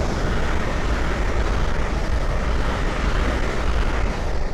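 A Great Northern electric train rushes by on the East Coast Main Line at Great Wymondley, producing a loud, continuous broadband roar that stays even throughout.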